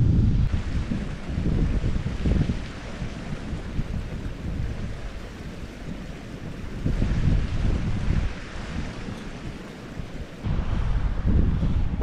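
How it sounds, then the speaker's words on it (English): Strong gusty wind on an exposed hillside in the Ochils buffets the microphone with deep roaring surges that rise and ease over several seconds, loud and close, with no voices. "wind is killer for me"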